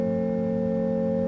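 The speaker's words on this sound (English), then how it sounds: "On the great organ, we're only playing one pipe per note, and it's this sound." A great-division stop on a Hauptwerk virtual pipe organ, voiced with one pipe per note, holds a steady sustained chord with a clear, stable pitch, fairly loud and alone, with no attack or change across the brief span.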